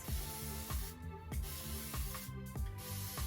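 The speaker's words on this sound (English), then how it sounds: "As you can see, I'm spraying this hair with water." A spray bottle mists hair with water in two short hissing bursts, heard over a steady tonal background with a repeating low rhythm.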